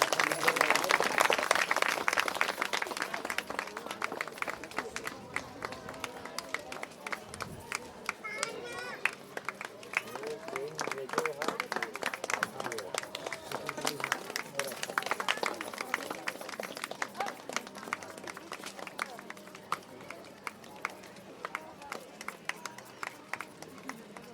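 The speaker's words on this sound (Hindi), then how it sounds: "तालियां बजाते रहिए, तालियां बजाते रहिए।" An audience at a Bhagwat Katha religious gathering claps steadily in a rapid, continuous patter that stays fairly even throughout, while someone speaks over it on a loudspeaker.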